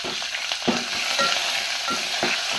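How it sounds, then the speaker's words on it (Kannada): Curry leaves and broken dried red chillies sizzle in hot oil in a pan for a South Indian tempering, a steady close frying hiss with a few soft stirring scrapes throughout, no voices. "ನೆಕ್ಸ್ಟ್ ವಾಸನೆಗೆ ಅಂತೇಳಿ ಕರಿಬೇವು ಹಾಕಬೇಕು"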